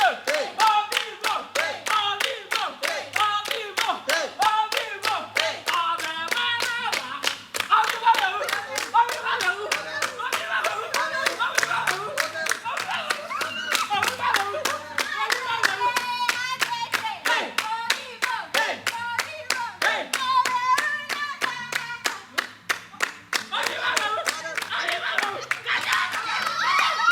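Performers in a devised theatre piece clap their hands in a rapid, continuous rhythmic game, sharp claps running nonstop with voices calling and chanting over them.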